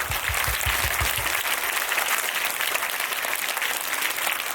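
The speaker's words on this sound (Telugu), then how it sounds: "ఒకసారి గట్టిగా క్లాప్స్ కొడదాం ప్లీజ్" An audience at a parents' meeting claps loudly, a dense, sustained burst of many hands with a few rhythmic claps at the start, filling the room with no speech.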